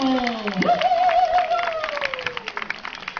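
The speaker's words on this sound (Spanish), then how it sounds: "¡Fuerte el aplauso!" An audience claps and cheers at an evening neighbourhood gathering while a voice speaks over the noise; the applause is loudest early, then thins into scattered claps.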